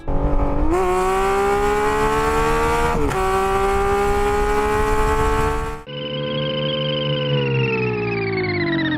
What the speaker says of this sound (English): The Inline-6 is overkill, nobody needs it, everybody who hears one wants it.